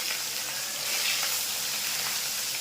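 Fish sizzle in hot oil in a pan, a close, steady, loud hiss of frying that carries on without a break and without talk.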